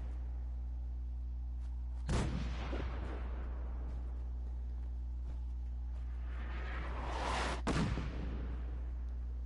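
Artillery shells hit and blow apart a building in the video game Fallout 4, with two loud booming impacts several seconds apart, each trailing off in a rumbling roar of debris above a low, steady hum.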